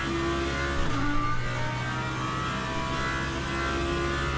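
GT3 race cars in a racing video game at the Imola circuit. Engines drone and whine steadily at high revs, with pitch shifts as the cars battle closely. The sound is continuous, with no talking.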